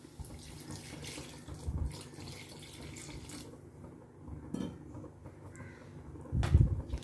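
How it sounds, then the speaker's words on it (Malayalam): Water is poured into a cooking pot of vegetables, including beetroot, in a kitchen: a faint, quiet trickle with a few brief, louder splashes. "അതുപോലെ തന്നെ ഇത് വേവാൻ ആവശ്യമായ വെള്ളം കുറച്ച് ഒഴിച്ചു കൊടുക്കാം"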